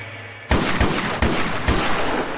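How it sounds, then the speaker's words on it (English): Four loud gunshots ring out in quick succession, each a sharp crack with a short echoing tail, after half a second of quiet. "Then all of a sudden, I heard 4 gunshots."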